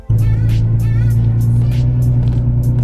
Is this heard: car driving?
yes